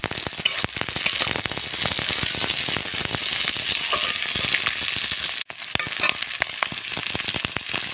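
Onion paste sizzles hard in hot oil for a village-style Bengali rohu fish curry, a continuous loud crackle broken by small metallic clinks of stirring, with no talk.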